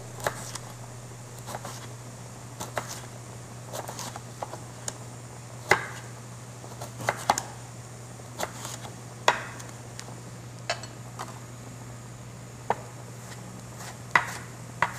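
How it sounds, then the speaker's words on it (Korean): A knife julienning fresh ginseng on a cutting board, sparse sharp chops landing at irregular intervals, close and crisp over a steady low hum. "수삼을 이렇게 채를 썰 건데요"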